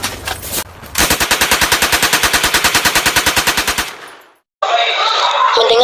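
Sound-effect gunfire for Japanese soldiers shooting in a short film: a long, loud, rapid machine-gun burst of evenly spaced shots that fades out, followed by a dense crackle of noise.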